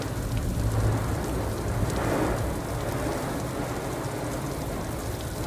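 Steady, dense rain drums hard on a roof, a continuous heavy downpour with no voices.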